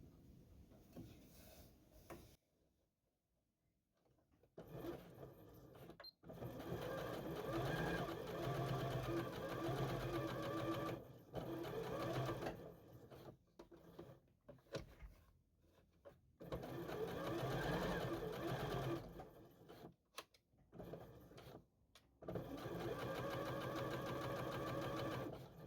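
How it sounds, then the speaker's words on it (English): A Janome JW8100 sewing machine stitches two pieces of fabric. It runs close up in several steady mechanical bursts separated by short pauses, with no talking. "I'm gonna go ahead and sew something really quickly"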